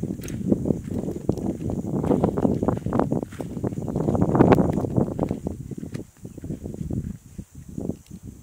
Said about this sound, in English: Boy, that wind feels good.